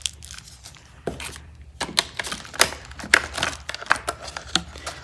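A knife cuts through a scented wax melt, giving sharp crunchy cracks and scraping snaps in an uneven series, close and fairly loud, with no talking.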